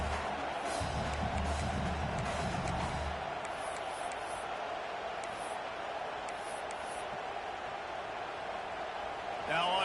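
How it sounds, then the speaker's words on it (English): Stadium crowd noise in College Football 26 makes a continuous roar of a large crowd under a commentator's voice, holding steady throughout with a slight swell at the very end. "This crowd trying to do its part to get inside the kicker's head."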